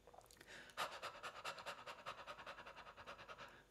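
Quick rhythmic panting breaths, steady and fairly close, demonstrated as a singing breathing exercise; no talking over the pulses.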